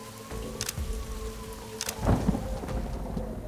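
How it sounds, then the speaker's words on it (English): Heavy rain pours steadily during a thunderstorm, with rumbling thunder and sharp cracks breaking through the constant wash of rainfall, close and loud throughout. "The rains are too dangerous for Bhavika to go on the Bronto, but she perseveres through the storm."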